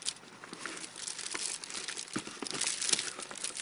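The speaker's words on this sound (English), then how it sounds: "Today's video is all about the unboxing of my new Alienware TactX keyboard." Plastic packaging crinkles and rustles while an Alienware TactX keyboard is unboxed, a steady close run of crackles with a few sharper tearing bursts and no talking.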